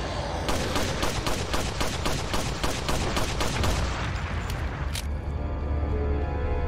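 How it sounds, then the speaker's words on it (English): Rapid pistol shots ring out in Resident Evil 4, over a dozen sharp reports in a steady burst during the first five seconds, then a lingering low rumble of game ambience. "Let me try my new pistol."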